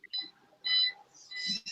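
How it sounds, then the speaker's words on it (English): Electronic beeps sound in the background in three short bursts, high-pitched and tonal, clear against an otherwise quiet room. "there's a beeping sound in the background"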